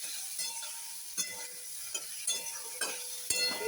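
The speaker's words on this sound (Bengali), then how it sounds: "এবারে মাছটাও দিয়ে দিলাম, নাড়াচাড়া করবো।" Singi catfish stirred in a pan for a thin curry, with soft sizzling and intermittent scraping clinks of a spatula against the metal, fairly quiet and close, no talking.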